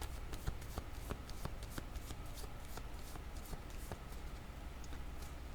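Tarot cards are shuffled and drawn in a brisk run of crisp, close flicks and riffles that continues steadily throughout, with no talking.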